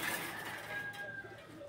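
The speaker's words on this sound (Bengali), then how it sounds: "এখানে হচ্ছে গিয়ে রাশেদ ভাই কবুতর পালে" Pigeons in a rooftop loft give soft, low cooing that sounds faint and brief against a quiet background.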